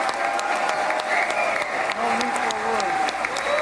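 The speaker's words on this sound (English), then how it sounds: "Oh, so just 39 seconds of applause" Sustained audience applause at a live political event honoring a speaker, dense steady clapping filling the whole stretch at even loudness, with crowd noise mixed in.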